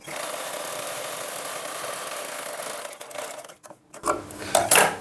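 A sewing machine runs at a steady whirring buzz for about three seconds while stitching a blouse, then stops. Scraping, rustling handling noises of fabric follow.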